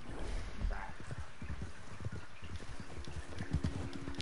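Horse hooves clip-clop in a steady rhythm in the video game Red Dead Redemption 2, a continuous run of hoof beats over a dense game soundscape.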